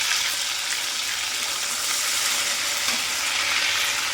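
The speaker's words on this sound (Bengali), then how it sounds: "আদা দিলে ছেটকায়" Ginger paste sizzling hard in hot oil, a dense, loud and continuous hiss with crackling spatter, close up and without any talk.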